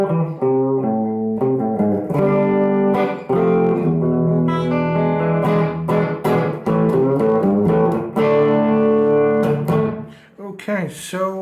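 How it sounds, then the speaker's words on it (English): An electric guitar played through the Bruno amp model on a Vox Valvetronix VT40+ amplifier rings out in loud, overdriven chords and riffs with a short pause near the end. "this is the sound of the Bruno amp"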